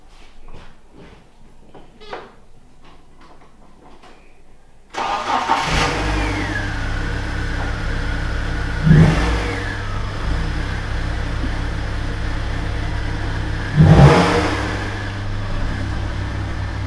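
A BMW E36 sedan, newly fitted with a replacement lock set and matched immobilizer, cranks and starts after quiet clicks and a beep, then settles into a steady close idle with two short, loud revs blipped a few seconds apart.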